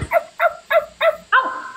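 A dog barks five times in an even, steady rhythm, each bark close and clear, with no talk over it.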